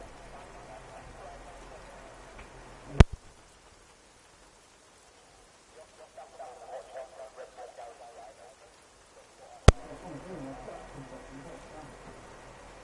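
Rain falling during a wet British GP race in the F2 racing video game, a steady broadband hiss that dips into a quieter stretch midway, with two sharp clicks breaking through.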